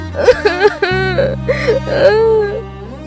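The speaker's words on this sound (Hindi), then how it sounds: "रानी रूपवती अपने शयन कक्ष में बिलक बिलक कर रोने लगती हैं।" A queen weeping and sobbing loudly, close and wavering whimpering cries with breathy catches, voiced alone and dramatically.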